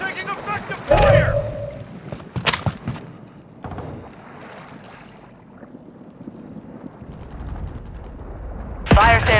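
Shots ring out in a Call of Duty Warzone quad match on PS5, with scattered loud bursts of gunfire amid game voice callouts and quieter stretches between.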